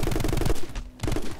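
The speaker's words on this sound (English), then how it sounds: "I'm killing you with the pistols." Pistols fire in rapid bursts in the action game My Friend Pedro, loud close strings of quick shots, a brief pause, then another volley.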